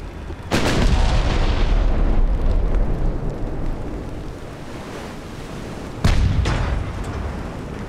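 Naval guns firing in the warship game Ultimate Admiral Dreadnoughts: two loud, booming blasts several seconds apart, each followed by a long rolling rumble over a constant sea-like wash.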